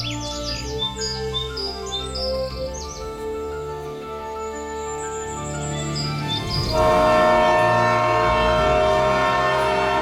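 A train arrives in a city as a sound effect in an animated children's story: bird chirps over a low rumble, then a loud, sustained horn blast swells in and holds to the end.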